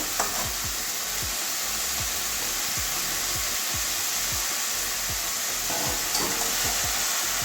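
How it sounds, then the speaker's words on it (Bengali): Boiled cabbage tossed into spices frying in a pan for an egg and cabbage curry gives a loud, steady sizzling hiss, with soft repeated knocks of stirring underneath, close up and without speech. "সিদ্ধ করে রাখা বাঁধাকপিটা দিয়ে দেবো"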